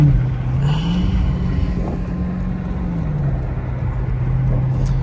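A Dodge Hellcat engine drones steadily while driving in snow, its low tone rising then falling as it downshifts, with wind rushing over the microphone.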